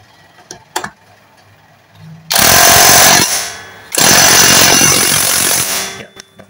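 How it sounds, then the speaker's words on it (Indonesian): Impact wrench tightening bolts on a Suzuki New Soul GT 125 motorcycle engine in a workshop, two loud rattling bursts of a second or more each, separated by a short pause, after a few faint clicks. "Bisa menggunakan kunci biasa atau pakai menggunakan impact."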